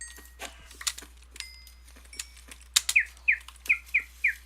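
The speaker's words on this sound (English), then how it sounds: "Sounds like a charger." Swamp charger, a bipedal ball-shaped bird creature in the Minecraft Advent of Ascension mod, gives a run of five quick, evenly spaced chirping calls near the end, after scattered faint clicks and ticks, with no talk.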